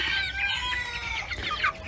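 A Silver Sebright rooster clucks and calls close by in short, throaty bursts, with faint outdoor background noise.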